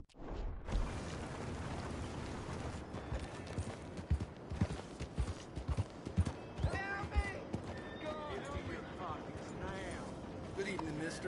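Horse hooves clip-clop and a horse whinnies in Red Dead Redemption 2, mixed under game dialogue and background music, with steady hoof steps and a neigh partway through.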